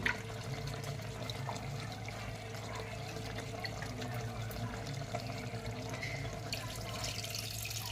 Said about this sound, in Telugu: ఇప్పుడు మనం ఇందులో చింతపండు పులుసు వేసుకుంటాం.